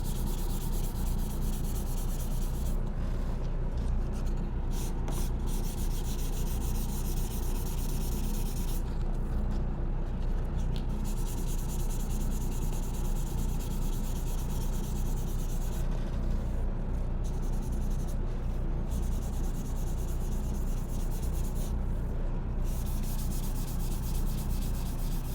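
Hand sanding of peeling paint on a white Chevy Tahoe with 600-grit sandpaper: steady, rhythmic rubbing strokes close to the microphone that carry on throughout with a few brief pauses, and no voices.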